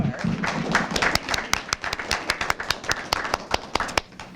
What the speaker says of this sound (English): we want to give her another round of applause